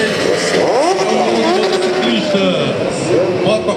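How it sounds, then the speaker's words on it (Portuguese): A group of motorcycles rolls past in a 7 de Setembro parade on Avenida Coronel Martiniano in Caicó, with engines droning and revving under continuous loud crowd noise and announcer-style talk. "Grupo de motociclistas na Avenida Coronel Martiniano."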